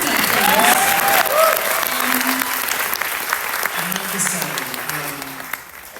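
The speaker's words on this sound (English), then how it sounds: "Yeah, clap for that" An audience at a Melbourne book launch with a singer bursts into loud applause with some cheering, the clapping strongest at first and gradually thinning, with faint voices underneath.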